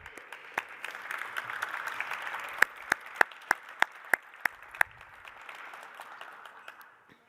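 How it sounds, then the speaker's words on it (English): Conference audience applauding at the Indiana Conference on Citizenship, a steady wash of clapping with a few sharp, close individual claps standing out in the middle before it tapers off. "So how about a round of applause for our Sagamore team?"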